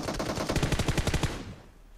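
Automatic gunfire in the mobile game PUBG Mobile, a rapid burst of about a dozen sharp shots lasting over a second before cutting off, loud and close.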